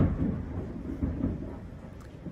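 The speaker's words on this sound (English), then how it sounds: "a little bit of thunder, a little bit of rain and lightning out there." Rumbling thunder rolls low and steady beneath a wash of rain, fairly faint and distant, with no talk over it.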